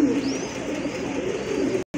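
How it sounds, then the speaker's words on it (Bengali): Pigeons at a sale coo in low, continuous throaty murmurs, close and steady, with a brief break just before the end. "খুবই ভালো মানের এক জোড়া কবুতর"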